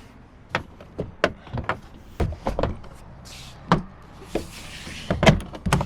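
A plastic car door trim panel is slid up and fitted onto the door during a speaker installation, giving a series of sharp knocks, clicks and scrapes spaced irregularly across the clip, close and fairly loud, with no one talking.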